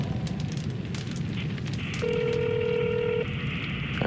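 A telephone being dialed, with a steady dial tone giving way to a short series of touch-tone beeps over background hiss.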